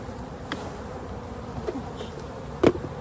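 Honey bees buzz steadily during a swarm capture on February 26, a continuous outdoor drone with a few louder close passes and brief knocks, no talk.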